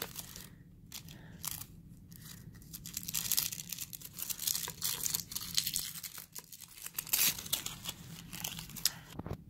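Wrapping paper around a Pandora jewelry piece is unwrapped and crinkled in repeated bursts of crunching, tearing rustle, close and fairly loud, continuing unevenly for the full stretch with no talking.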